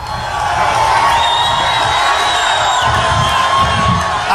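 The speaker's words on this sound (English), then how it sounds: "This is a big crowd." A large crowd at a Donald Trump rally cheers loudly and continuously, a dense roar of voices with whistles and shouts rising and holding throughout.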